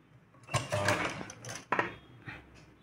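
A sewing machine stitches tucks into a ruffle sleeve in two short bursts of rapid mechanical clatter, close and moderately loud, with brief pauses between runs.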